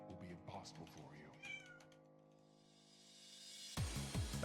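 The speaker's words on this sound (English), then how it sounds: "I hope y'all can't hear my cat in the back." A pet cat meows repeatedly in the background of a room, several drawn-out yowls trailing off, before a person starts talking at the end.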